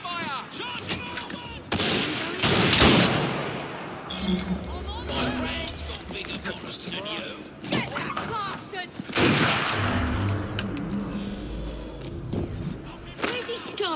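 Gunfire in the video game Assassin's Creed Syndicate, with sharp bursts and booming shots mixed with clashing combat noise and shouting voices, loud and close, rising in a heavy volley near the start and again later.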